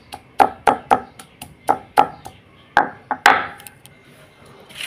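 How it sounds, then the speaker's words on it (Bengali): Garlic being crushed on a shil-pata, a flat stone grinding slab, with a stone pestle. Sharp, close knocks repeat in an uneven rhythm, about a dozen hits over a few seconds, with no talk. "এই শিলপাটাটা একটু থেতো করে নেব আমি রসুনটাকে"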